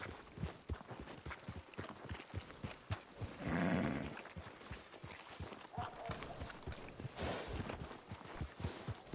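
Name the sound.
horse hooves clip-clopping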